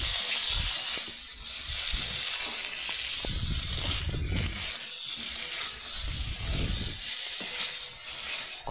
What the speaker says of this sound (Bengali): জিরে বাটাটা দিয়ে আমি ভালো করে আলুটা কষিয়ে নেব